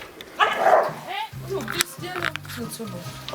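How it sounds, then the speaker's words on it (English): Dogs bark and yip nearby, their sharp, repeated calls overlapping with people talking loudly throughout. "The fucking dogs"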